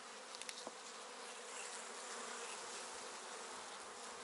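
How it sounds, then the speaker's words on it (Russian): Dense, steady buzzing of young honey bees on an open hive frame during a colony inspection, a continuous close swarm drone with a few brief louder buzzes near the start. "Молодые тут пчелки."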